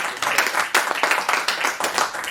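An audience claps to welcome a poet into a studio for a comic poetry session, a short burst of brisk, fairly close applause with uneven rhythmic claps.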